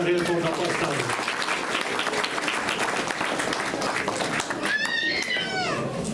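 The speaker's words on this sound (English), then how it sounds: "give a big round of applause to all the newcomers who are here for the first time" A congregation at a Sunday service gives sustained applause for newcomers, a steady wash of clapping with voices calling out over it and a higher vocal sound near the end.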